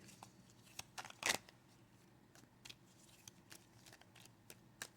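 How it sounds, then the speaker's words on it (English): Quiet riffling and soft snaps of tarot cards being shuffled nearby, a cluster of brief crisp bursts with one sharper flick, no talking. "I'm shuffling off camera."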